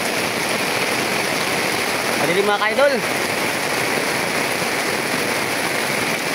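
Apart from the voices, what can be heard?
heavy rain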